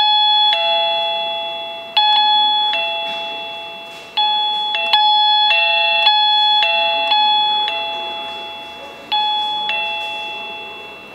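ERA C108 wireless doorbell chime repeats its short electronic melody several times in a row, close and clear, with the loudness shifting slightly between repetitions as volume changes.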